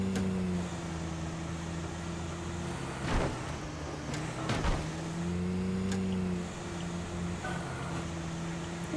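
Vehicle engine droning steadily in the fishing game Call of the Wild: The Angler, a low idling hum with slight pitch shifts, plus a couple of brief bumps or clunks midway, no voices.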